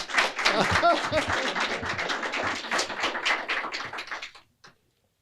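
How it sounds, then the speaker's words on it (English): Audience applause at a mayor's press conference, a dense burst of clapping that fills the room for about four seconds before cutting off abruptly into silence. "And can we give Boo another round of applause?"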